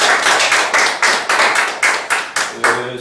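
A congregation claps steadily in rhythmic unison at a charismatic church service, loud and close, with about a dozen even beats in three seconds and no talking.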